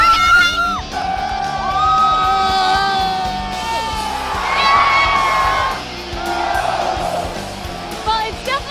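A college football tailgate crowd at the University of Iowa cheering, loud close yells, whoops and shouts layered over continuous crowd noise, with people talking nearby.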